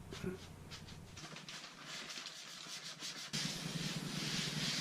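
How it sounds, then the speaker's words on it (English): Sandpaper worked by hand over the end grain of a wooden child's table gives quiet, repeated rubbing strokes, a soft scratchy back-and-forth that comes in uneven bursts. "I'm doing a little hand sanding to try to smooth up some of that end grain that's sticking through"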